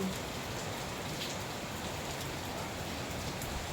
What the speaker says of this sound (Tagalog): Kasi umuulan. Ayan, umuulan.